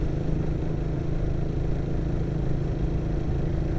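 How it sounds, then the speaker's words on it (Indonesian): Suzuki FU motorcycle fitted with a racing exhaust, its engine running with a steady, loud low rumble and clattery texture, continuous and close, with no speech. "suara FU itu enak banget. Apalagi kalau dipasang knalpot racing kayak gitu."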